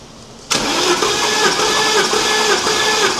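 A BMW E34 engine with the spark plugs out and ignition disconnected cranks over on the starter for a compression test, a loud, steady whirring drone that kicks in abruptly after a brief quiet moment and runs without catching.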